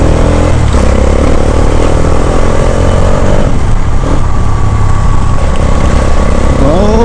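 A Bajaj Dominar 400 motorcycle engine runs steadily at close range while riding after sitting unused for a long time, its low rumble constant with slight rises in revs toward the end.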